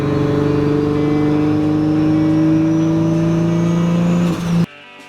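Inside a Datsun car while driving, loud engine drone with strong steady tones rising gently in pitch as it accelerates, with no talking, before cutting off abruptly near the end.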